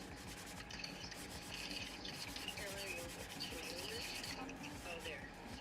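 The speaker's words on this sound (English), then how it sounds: "I'm just sanding this part." Steady, rasping back-and-forth strokes of sandpaper rubbed over a 3D-printed plastic part, continuous and soft, heard close up with no talking.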